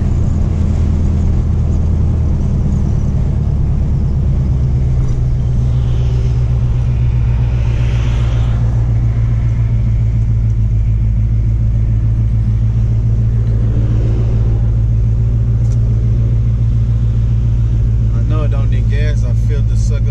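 A 1984 shortbed pickup with a turbo 375 automatic transmission rolls into a gas station, its engine a steady low rumble throughout with a brief swell of revving midway; speech is detected though no words are transcribed.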